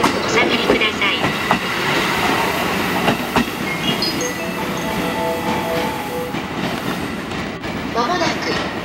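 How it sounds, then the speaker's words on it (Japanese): A train rumbles and clatters into platform 3 of a Japanese station close by, wheels clicking steadily, while faint voices and platform noise sit underneath. "まもなく3番線に列車が参ります。"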